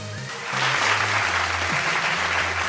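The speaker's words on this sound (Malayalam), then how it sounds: "നല്ലൊരു കൈയടി കൊടുക്കും ഈ കുട്ടികൾക്ക്." Audience applause for child performers from a children's home at a founders' day stage event, steady hand-clapping from a large crowd that swells after half a second and holds full and even, with a low hum underneath.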